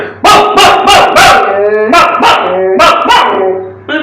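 A voice imitates the rough barking of village dogs from Chakia near Banaras, a loud, close run of about eight harsh, tonal barks in quick succession.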